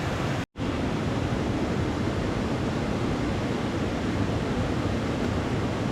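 Steady broadband rush of a waterfall beside a wet winter camp, constant and fairly loud throughout, with one brief dropout near the start and no voices.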